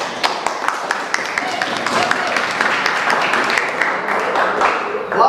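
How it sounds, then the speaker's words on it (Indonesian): Audience applause for a student group presenting a synopsis in a class, a dense crowd of hand claps building and holding steadily before stopping abruptly. "Tepuk tangan untuk kelompok 2."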